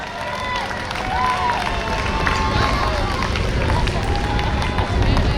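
Festival crowd at the 30th Annual Seneca River Days in Baldwinsville applauding the band, a steady, dense wash of clapping and cheering spread through the whole span, with crowd babble mixed in.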